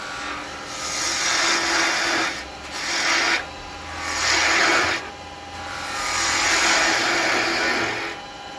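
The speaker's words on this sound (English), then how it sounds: "I'm going to see what the spindle gouge goes like." A spindle gouge cuts wood on a lathe, giving a loud, rushing hiss that swells and fades in several passes over a steady motor hum, with no talking.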